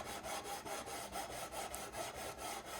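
Sandpaper rubs by hand over wood on a guitar build in quick, even back-and-forth strokes, faint and close, with no talk.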